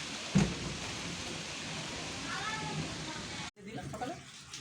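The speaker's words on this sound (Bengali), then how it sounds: "প্রচন্ড ঝড় উঠেছে, বৃষ্টি পড়ছে, মেঘ পুরো কালো হয়ে গেছে।" Rain falling during a storm with strong wind outdoors, a steady wash of rainfall and gusts with a brief dropout near the end, fairly faint overall.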